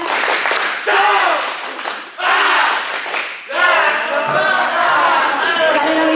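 A school audience at an OSIS student council candidate debate at SMKN 5 Pangalengan performs a rhythmic group clapping routine in three loud bursts, with many voices chanting along and brief pauses between rounds.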